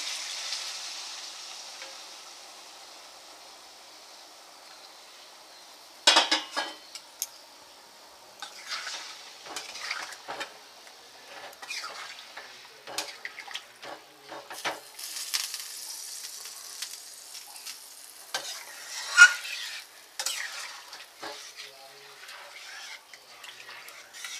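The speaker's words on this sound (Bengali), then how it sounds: "এবার আমি জল দিয়ে দেবো। 2 বাটির মতন জল দিয়ে দিচ্ছি, ছোটো বাটি।" Water goes into a pan of frying chicken and moong dal, a faint hiss first, then scattered sharp sizzles and splashy crackles at irregular intervals as the liquid hits the hot pan.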